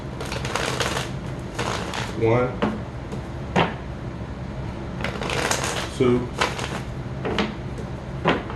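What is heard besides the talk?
shuffling cards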